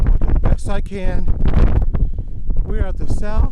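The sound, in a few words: strong wind blowing into the microphone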